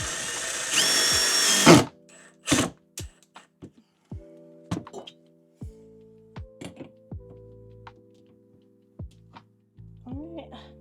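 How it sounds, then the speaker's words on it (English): A power drill drives screws into a horse trailer in a series of short whirring bursts, the first one longer and louder, then brief pulses with thunks and small clatters between them, close by. "Alright, just gotta tighten them up a little bit."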